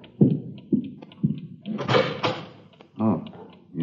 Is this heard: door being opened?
yes